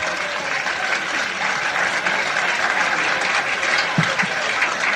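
Audience applause for comic magician Michael Finney at a 1983 live stage show, a steady, broad wash of clapping that holds evenly throughout with no talk over it.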